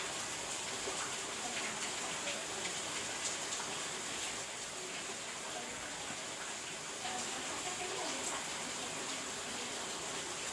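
Rain falling outdoors, a steady dense hiss of drops with faint scattered patters, continuous and fairly quiet throughout.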